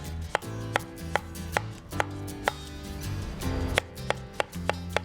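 Cooked beets sliced with a knife on a wooden cutting board: a regular series of about a dozen crisp, close knife taps striking the board, heard alone without talking.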